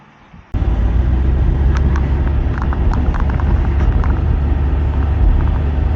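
Inside a car driving on the road after a sound-deadening fix: a loud, steady low rumble of road and engine noise begins abruptly and continues evenly, with faint rattles above it.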